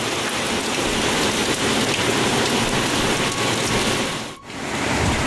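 Heavy rain pours down in a dense, unbroken hiss on surfaces, loud and close throughout, dipping briefly near the end before returning, with no voices.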